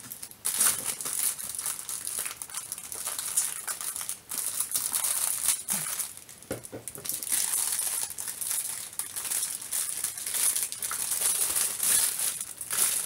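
Plastic packaging for self-adhesive hooks from a Temu order being cut open with a dull knife, giving continuous close crinkling and crackling with sharper snaps and tearing bursts throughout.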